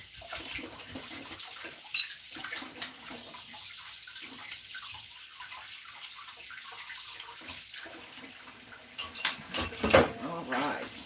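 Dishes, pots and pans being rinsed in a kitchen sink, with scattered clinks of cutlery and cookware over faint running water, growing busier and louder toward the end.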